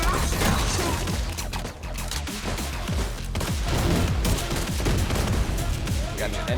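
Dense, continuous gunfire from The Division 2 video game, with rapid overlapping shots and mechanical clatter packed close together, running steadily throughout the stretch at a loud, near level.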